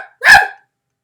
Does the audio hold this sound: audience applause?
no